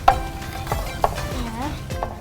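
Kuttipayasam, the sweet Vishu pudding, being stirred in a pot, with soft scraping strokes and light clinks of the spoon against the vessel, close and fairly quiet, with a faint voice in the background.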